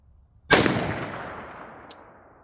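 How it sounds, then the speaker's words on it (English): A single sharp rifle shot fired while zeroing a MidTen 4-12x40 scope, loud and close, with a long outdoor echo decaying afterward and a faint second crack near the end. "I'm going to shoot at that orange dot on the right there"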